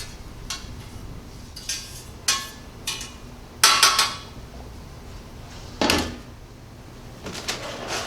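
Metal scrapes and knocks sound as leftover burn residue is worked out of the bottom of a metal pan. The clanks come in separate sharp hits spread across a quiet background.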